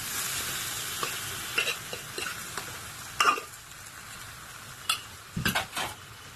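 Stirring in a pan of curry with boiled banana flower and potato: scraping strokes and a few clinks of a utensil against metal come in short bursts over a low sizzle, close by and with no talk.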